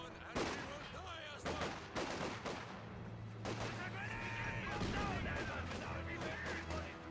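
Gunfire in Company of Heroes 2 as grenadiers push forward and fire on an officer: repeated sharp rifle and machine-gun bursts, with explosions under battle noise and a commentator talking over it.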